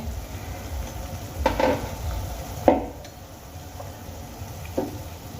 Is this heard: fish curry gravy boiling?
yes